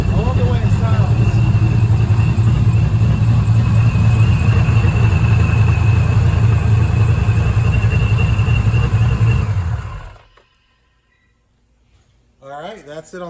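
A supercharged 2005 Mustang 3V engine with a Paxton supercharger idles loudly and steadily close by with a lumpy rumble and faint whine, then cuts off into silence before a brief voice.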